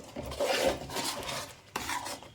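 A utensil stirs and scrapes onion paste frying in a pan for egg boti curry, giving soft, close rasping strokes in a short uneven rhythm.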